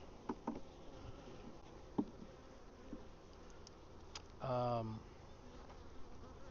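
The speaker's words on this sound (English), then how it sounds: "there are a lot of bees down there" A honey bee buzzes past briefly near a hive during an inspection in central Texas, one clear buzzing swell lasting about half a second amid faint ticks and quiet background.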